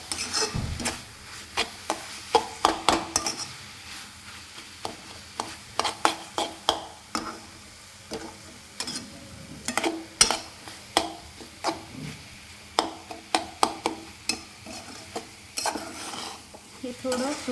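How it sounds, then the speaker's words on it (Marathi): A spoon stirs coconut puran filling in a hot pan, with repeated scraping and clinking strokes in an uneven rhythm over a soft sizzle, close and fairly loud. "आता हे मिक्स करून घेऊया मिक्स करून घेऊ व्यवस्थित"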